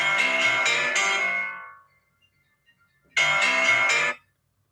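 A phone rings with an incoming call: two loud, close bursts of a bright electronic ringtone separated by a pause of near silence, with no talking.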